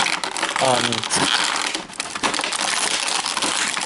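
A toy Stegosaurus from a Jurassic World Camp Cretaceous mini dino pack being pushed out of its plastic packaging, with close, loud crinkling and crushing plastic lasting the whole moment while a voice speaks over it.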